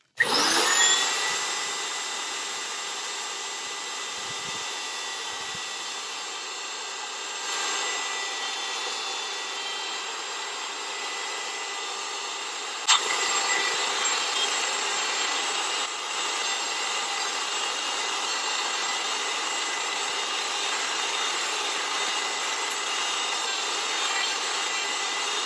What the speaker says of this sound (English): I want to just set my router up like this, set it up like a routing table